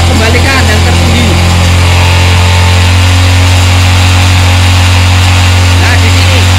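A carbureted Supra 125 motorcycle engine is held at its highest revs, making a loud, steady buzzing drone that stays constant throughout.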